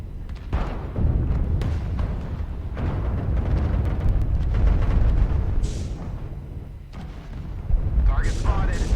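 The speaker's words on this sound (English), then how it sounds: "Those missiles flying over our head." Barrages of missiles roar overhead in the MechWarrior Online mech combat game, a dense loud rumble of launches and blasts rolling on throughout, with a few sharp whooshing streaks and a voice speaking briefly beneath the din.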